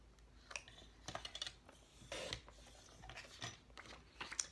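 Paper strips, 1.5 and 2 inches wide, are trimmed to length with a series of short close rasping cuts and scrapes in irregular bursts, fairly faint, with no talking.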